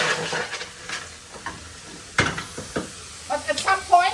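Onion dry-fries in a pan without oil, giving a soft intermittent sizzle and hiss with scraping stirs and a sharp clatter partway through, plus a brief bubbly crackle near the end.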